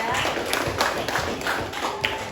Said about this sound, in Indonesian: Beri tepuk tangan kepada kelompok 3.